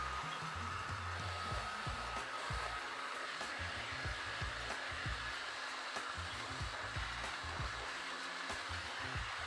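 A MelodySusie stepless hair dryer runs at full fan speed on low heat while drying hair, giving a steady, close whooshing airflow that holds throughout with a few faint handling bumps underneath.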